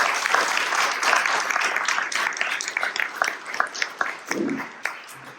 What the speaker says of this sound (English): can I ask a round of applause to welcome Dr. Spalding